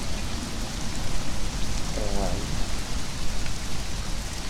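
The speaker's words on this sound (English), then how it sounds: "Seems to rain a lot here" Rain falls in the Conan Exiles video game as a dense, steady hiss of drops landing on surfaces, heavy and continuous, with a brief spoken word partway through.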